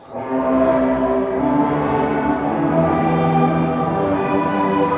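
Sustained electric guitar chord through a Jet Pedals Revelation pedal, plate reverb with modulation, washing into a lush, shimmering tail with slow wavering modulation, steady and full throughout with no voices.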